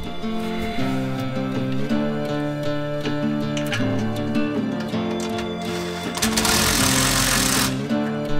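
A power tool bolts a three-trumpet train horn onto a 4WD Kodiak truck camper, giving a steady loud mechanical whir that breaks into a harsher, noisier burst near the end.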